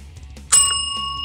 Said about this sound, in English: and ring the notification bell.